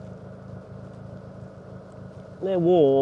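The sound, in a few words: Renault Twingo car being driven around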